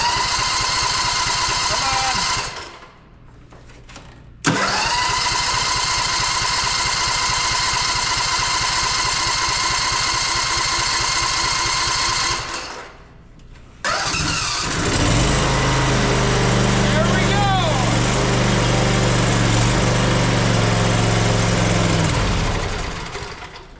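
A riding lawnmower's small engine cranks, catches and runs with a buzzing drone, cuts out briefly, restarts, then settles into a louder, steady idle close by before fading near the end.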